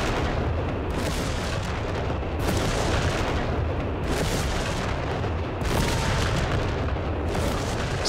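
Artillery barrage landing in the video game Company of Heroes 3, a dense, continuous roar of overlapping booms and rumbling explosions at steady high loudness, with no speech.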